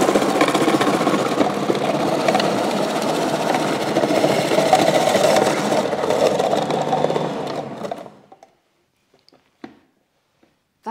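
An old kitchen machine grinds and whirs steadily while grating vegetables for a pumpkin-sage strudel filling, loud and continuous for about eight seconds before it winds down and stops, leaving near silence with a few faint clicks.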